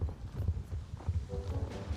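Horse hooves clip-clop in a video game with a French-speaking player at a fort where horses are for sale, a steady moderately loud stream of hoofbeats over two seconds with faint background tones.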